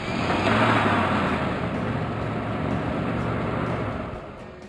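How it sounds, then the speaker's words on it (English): Truck engine rumbling steadily as the vehicle passes close by, a loud, broad roar that swells early, holds, then eases off near the end. "Well done. Truck."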